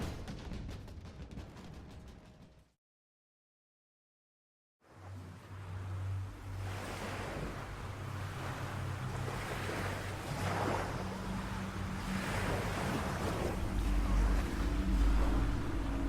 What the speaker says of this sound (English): Waves rolled onto the shore, frothing white over the fine sands, their rhythm steady, unbroken.